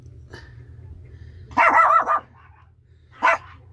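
A shih tzu puppy around 24 days old gives a short burst of several high yips and barks, then one more bark a moment later, close by over a low steady hum. No talking.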